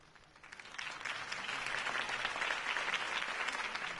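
A crowd claps after a campaign speech in the Batman Telltale game, quiet at first and then swelling into steady, dense applause that holds for several seconds, heard from a moderate distance with no talk over it.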